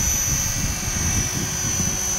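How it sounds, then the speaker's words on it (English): An Align T-Rex 470LP radio-controlled helicopter on 6S batteries runs with a steady, high-pitched electric whine and a low rotor buzz, loud and continuous throughout. "it's a 6S heli, and it really, really tracks these batteries quite quickly"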